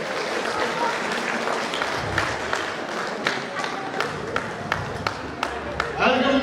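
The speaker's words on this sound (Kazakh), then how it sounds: "шапалақ болсаңыздар болады." Wedding guests at a Kazakh toi celebration applaud steadily, a dense wash of claps with a few sharper close hand strikes standing out, fairly loud throughout.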